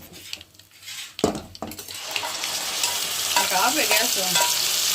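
Coriander tempering fries in hot oil while a spoon stirs and scrapes the pan, starting with a few sharp clanks of metal and settling into a steady, close, rising sizzle.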